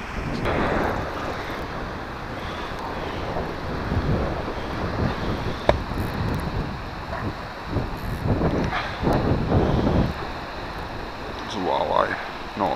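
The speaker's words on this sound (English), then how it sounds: "It's kind of windy today and I had to fight the wind to drift." Wind gusting and buffeting the microphone on a boat drifting near a dam, a steady broadband roar with swelling rushes throughout, loud and close.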